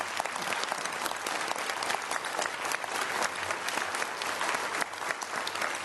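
Sustained applause from an audience in a city council chamber, honoring young members of a youth academy: dense, steady clapping throughout, fairly close and even in level, with a faint crowd murmur beneath.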